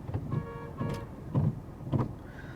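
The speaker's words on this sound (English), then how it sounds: "the gearbox is a little notchy" Manual gearbox of a 2021 Maruti Suzuki Celerio with a short gear stick, shifted through a few notchy clunks and clicks inside the cabin, each shift a short mechanical knock spaced about half a second apart.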